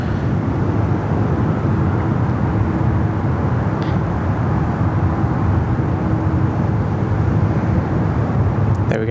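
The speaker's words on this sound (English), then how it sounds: "here's one of the beautiful little blue tail sub 340s of Link Airways" A Link Airways Saab 340 turboprop at Sydney Airport rumbles with a steady, broad engine roar that holds constant throughout, heard from a moderate distance.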